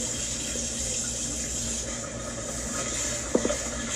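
Water runs steadily from a kitchen tap while white rice is rinsed to wash off starch, a constant close hiss with a couple of faint clinks near the end.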